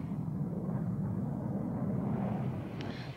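Military attack planes over Vietnam during the Vietnam War rumble overhead in a low, steady distant drone, with a faint higher whine rising near the end.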